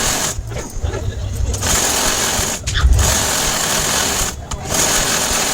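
A sewing machine stitches a joint in blouse cloth, whirring in close, loud bursts that break off for short pauses between runs, while a person talks over the motor.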